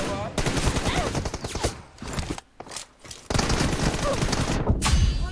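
Gunfire in a video game comes in rapid, loud automatic bursts, near and dense, broken by two short pauses and then resuming with a final burst.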